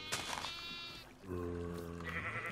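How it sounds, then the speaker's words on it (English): Sheep in the video game Minecraft give two drawn-out, wavering bleats one after the other, clear and close with no talking over them. "I got tons and tons of sheep."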